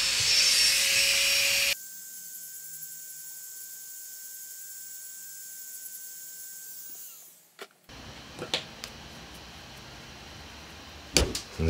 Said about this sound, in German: jetzt werde ich nochmal schnell unter dem Nagel ein wenig fräsen, weil hier sind ein paar kleine Kanten